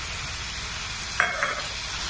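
Finely chopped capsicum fries for pav bhaji with a steady, even sizzle, and a brief clink of utensil against the pan cuts in midway.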